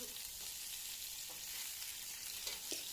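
Pitha, a Bengali winter cake, fries in hot oil in a pan with a steady close sizzle and bubbling, broken by a few soft stirring clinks, with no voices.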